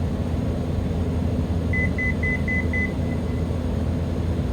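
Altitude alert in a Black Square Caravan Professional cockpit in Microsoft Flight Simulator 2024 on Xbox: a short run of about six evenly spaced electronic beeps over steady engine and cabin drone.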